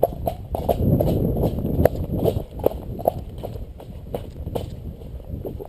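A big cob horse walks with steady, evenly spaced hoof clip-clops, close by over a low rumbling background.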